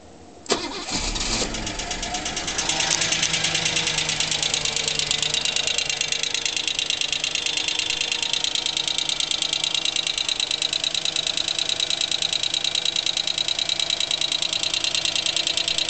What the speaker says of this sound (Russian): Стучит в левой голове.